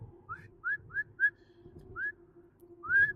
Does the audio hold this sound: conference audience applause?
no